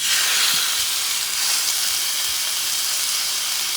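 Kangaroo meat sizzles in a hot pan, giving a steady, loud hiss of frying that holds even for the whole stretch with no voices.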